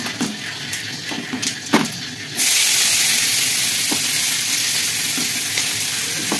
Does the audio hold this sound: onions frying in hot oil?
yes